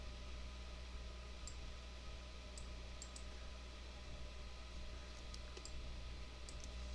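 Faint computer mouse clicks while inking a cartoon in Adobe Illustrator, a handful of soft, crisp taps spaced unevenly over a quiet steady hum.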